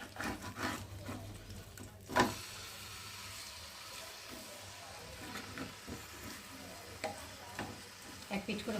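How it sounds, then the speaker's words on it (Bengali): Rohu fish pieces frying in hot oil in a home kitchen and being flipped, a faint steady sizzle with scraping and clacking of the turner, one sharper knock early on, and occasional quiet talk. "দেখো বন্ধুরা মাছগুলো ভাজা হয়ে গেছে, আর আমি আর এক পিঠ করে উল্টে দিচ্ছি।"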